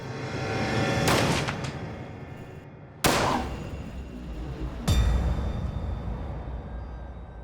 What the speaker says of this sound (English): she takes his gun and pulls the trigger